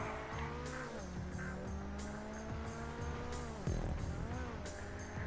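Corquette D10 sports car in the GTA video game, engine revving steadily while the tires squeal repeatedly through corners, with bursts of skidding and a gear change near the end.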